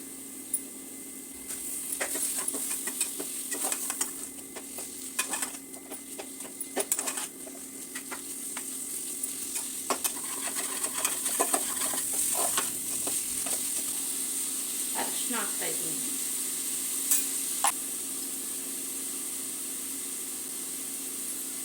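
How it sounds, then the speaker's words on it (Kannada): Prawns fry in masala gravy for prawn biryani, a steady sizzle with scattered scraping and clinking stirring strokes throughout, growing slightly fuller midway, with no voices. "ಈಗ ಪ್ರಾನ್ಸ್ ಹಾಕ್ತಾ ಇದ್ದೀನಿ"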